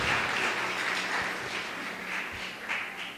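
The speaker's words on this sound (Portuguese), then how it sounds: "Você pode aplaudir o Senhor?" A church congregation applauds together, a soft, distant wash of many hands clapping steadily in a reverberant hall for a few seconds.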